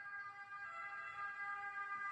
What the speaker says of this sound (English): There goes the siren again. You hear it? Hear it?